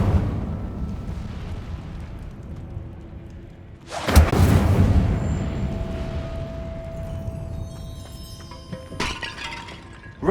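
In Hogwarts Legacy, an Incendio fire spell erupts in a sudden loud burst of crackling flame that rumbles and fades over several seconds, followed later by a brief sharp magical crackle.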